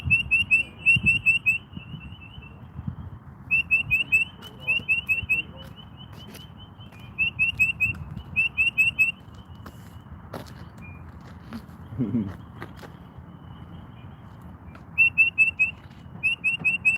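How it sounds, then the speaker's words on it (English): A small myna bird calls outdoors in repeated short bursts of bright, chirpy whistles with pauses between them, fairly close, over faint background rustle and no talking. "Little minor bird calling out here."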